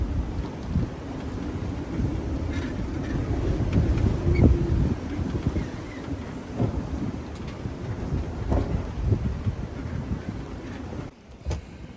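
Strong 39-knot katabatic wind gusting over a sailboat off the Isle of Man beneath high cliffs, a loud continuous roar and buffeting across the microphone with surges and rattles, no voices.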